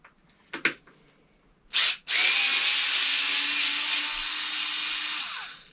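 Tight scooter stem screws secured with Loctite are loosened with a hand tool, giving a couple of short creaks and a brief grinding burst, then a sustained loud scraping squeal as the screw turns, with no talking.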